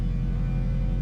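Activated energy shields on six stormtroopers in the Star Wars KotOR video game give off a loud, continuous low hum with a slight pulsing wobble, heard alone.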